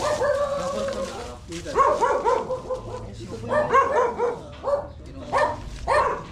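Repeated dog barks in bursts, fairly close and loud, with people talking over and between them.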